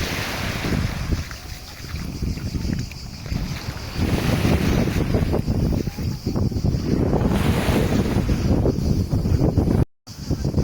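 Sea waves wash onto a Greek beach in steady surging rushes mixed with strong gusty wind buffeting the microphone, loud and close with no clear talk.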